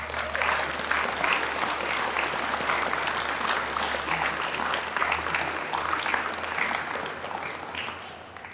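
Sustained audience applause at an ocean science open house presentation, a dense, steady wash of many hands clapping close and loud for the full duration with a low hum underneath.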